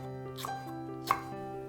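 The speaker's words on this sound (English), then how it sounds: "You can put a hot chili. Finely mince it." A knife finely minces a hot chili on a cutting board, a few soft quick chops close by over a steady hum, with no talk.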